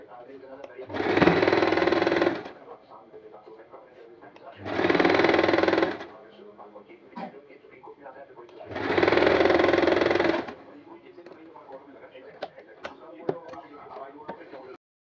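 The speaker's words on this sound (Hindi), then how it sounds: "यहाँ पर आपने मोड़ते हुए सीधी सीधी सिलाई लगा लेनी है।" A sewing machine runs straight stitches along a folded casing on a fabric hijab cap. Three separate bursts of rapid, close whirring each last about a second or two, with quieter handling sounds in the gaps.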